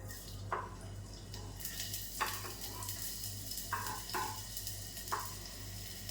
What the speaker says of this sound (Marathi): तेल तापलेलं आहे याच्यामध्ये मी कांदा टाकून घेते